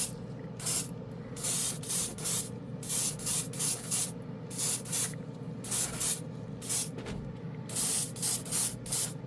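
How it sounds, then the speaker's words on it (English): An airbrush sprays red acrylic paint thinned with rubbing alcohol in repeated short hissing bursts, close and loud, each spurt separated by brief pauses over a low background hum. "it's spraying beautiful with the rubbing alcohol"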